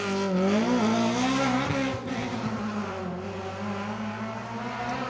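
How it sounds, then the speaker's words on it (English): A BMW M3 rally car driven hard on an asphalt rally stage, its engine howling loudly up close, then dropping in pitch as it shifts and holds a steady, rasping note while passing. "Absolutely throwing that BMW around."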